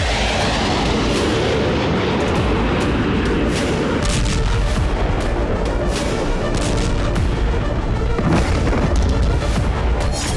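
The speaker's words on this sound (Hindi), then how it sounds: "इसलिए बेलगोरोद में फिर धमाके हो रहे हैं।" A dense barrage of heavy booms and blasts from wartime strikes in Belgorod, Russia, one after another without pause, loud and rumbling across the whole stretch with no voices.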